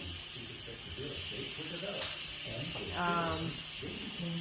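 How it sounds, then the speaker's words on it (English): Steam hisses steadily from the manual release valve of a pressure cooker cooking shredded beef, a continuous high rush with low talk and handling sounds underneath and a brief rattling burst partway through. "So that's the manual release of all the steam"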